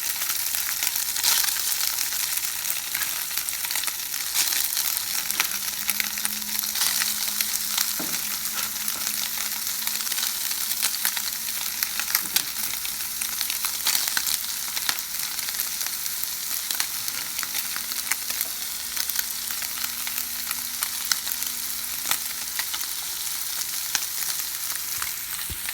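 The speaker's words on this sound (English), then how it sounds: "So this is what I'm going to be sauteing right now." Diced Spam sautéing in a pan for pork fried rice, a continuous close crackling sizzle with dense fine pops and occasional stirring clicks throughout, no talk.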